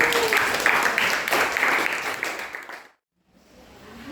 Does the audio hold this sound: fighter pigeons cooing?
no